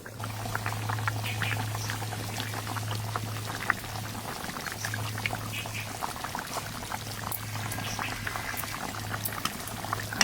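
Hilsa fish curry bubbles steadily in a pot, a continuous close boiling burble with a low steady hum beneath and no speech.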